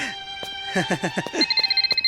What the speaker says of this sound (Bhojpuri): ए चित्रगुप्त, फोन उठा।